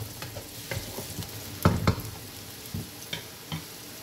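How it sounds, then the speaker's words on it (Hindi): Chopped onion fries and gets stirred in a karahi, giving a soft steady sizzle broken by several scraping stir strokes, the loudest pair coming mid-way, with no talking. "अनियन एक डाल दिया मैंने"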